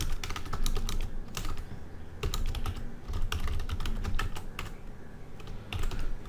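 Rapid, steady keystrokes on a computer keyboard during JavaScript coding, close and clear, with short pauses between bursts of typing and no talking.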